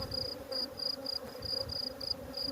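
Honey bees drone steadily around an open hive during routine colony inspection, a soft continuous buzz with a faint higher whine pulsing through it, no voices.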